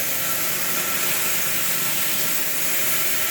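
A Farmer D1 grain crusher with a 2.2 kW motor grinds feed grain such as barley and wheat, giving a steady, dense broadband roar with a hissing top that runs unbroken throughout.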